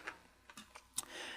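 Computer keyboard typing in a few sharp, separate keystroke clicks, close and fairly quiet, with no speech over them.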